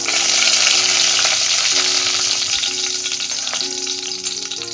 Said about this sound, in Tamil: இப்போ கீறி வச்ச பச்சை மிளகாய் போட்டுக்கலாம்.